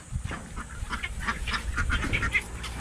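Domestic ducks kept on a rural Philippine farm, heard as a cluster of repeated nasal quacks and honks of varying pitch, moderately close, continuing steadily with no talking over them.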